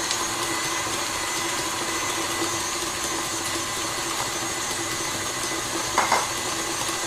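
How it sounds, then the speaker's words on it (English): An electric whisk beats margarine and sugar into cupcake batter, a steady whirring hum held at even loudness throughout, close by, with a brief knock near the end and no talk. "And that's whisking up really nicely now."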